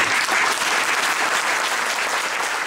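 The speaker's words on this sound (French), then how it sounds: "Puis un tonnerre d'applaudissements en guise d'hommage" A hall full of people claps enthusiastically at the photography of the year 2012 award ceremony, a loud, dense, continuous wash of applause with no pauses.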